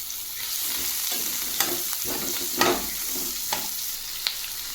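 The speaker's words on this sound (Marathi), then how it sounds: "कांदा परतण्यासाठी मी इथं तेल टाकलं आहे एक चमचा टाकलं त्यामध्ये हा कांदा टाकू" Onion sautés in a spoonful of oil for a peas and paneer curry, a constant close sizzle broken by several sharp spoon taps and scrapes against the pan, with no talking.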